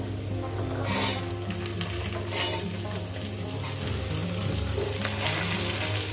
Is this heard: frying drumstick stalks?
yes